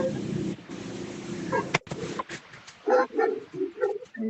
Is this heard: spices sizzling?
no